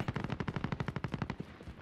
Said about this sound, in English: guys can hear gunshots inside that building there